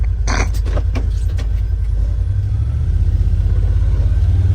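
A car drives slowly over rough back-country ground, its low engine rumble steady and close throughout, with a few faint knocks and bumps near the start.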